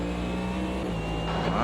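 A NASCAR race car in the Automobilista 2 racing game at Mid-Ohio roars past close and loud, its engine note rising steadily toward the end with a hint of tire noise.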